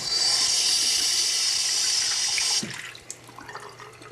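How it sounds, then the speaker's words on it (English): A low-flow bathroom sink faucet in a remodeled bathroom runs with a steady hiss of water for about two and a half seconds, then shuts off, leaving a few faint drips and clatters. "Low water usage sink."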